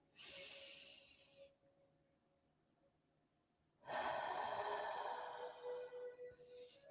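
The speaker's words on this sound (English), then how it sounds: "Take a deep breath." A slow, deep breath drawn in during a guided healing meditation: a soft airy inhale, a quiet pause, then a longer, fuller breathy exhale, close and alone with no talking.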